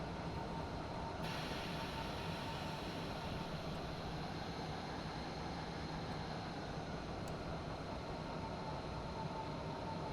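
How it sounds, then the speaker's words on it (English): A passing train in a German regional rail simulator on the Neuhaus to Nürnberg Hbf line rumbles by as a loud, steady roar of wheels and carriages, with a hissing rush joining early and persisting throughout. "Another train going by."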